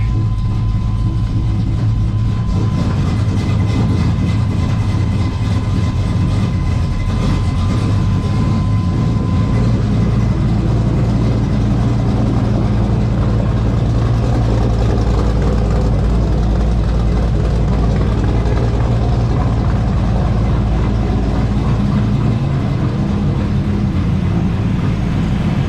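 LS-swapped car engine idling and put in gear, a loud, continuous low rumble with a steady drone that stays close and even throughout, with no clear talking over it.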